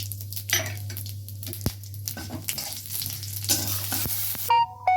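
Panch phoron spices with a bay leaf crackle and sizzle in hot oil in a wok, a steady close frying hiss broken by a few sharp pops and stirring clinks of a utensil against the pan.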